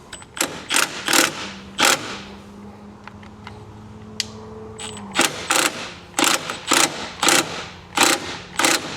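A hand ratchet snugs down bolts on a Stealth Hitches hidden hitch receiver on a 2026 Mazda CX-50, giving close, loud bursts of rapid clicking in repeated strokes, with a pause in the middle where faint metal handling is heard.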